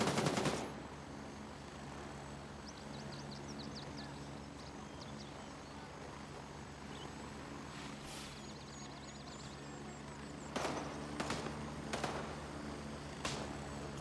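Gunfire in the Gray Zone Warfare video game at an airfield: a burst of sharp shots at the start, then a steady engine drone, with several more loud cracks near the end.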